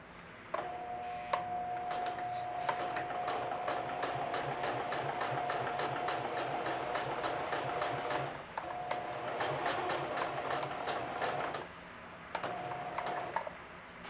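A sewing machine stitches a denim watch pocket onto its shield in a rapid, even chatter with a steady motor whine, pausing twice briefly before resuming, close and clear.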